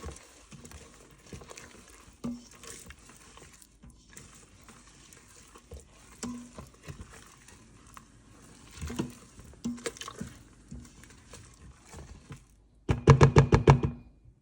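A spoon stirs turmeric and spices into horse gram in a pot with soft, uneven scraping strokes. Near the end a louder burst of rapid clattering comes close up, with no talk.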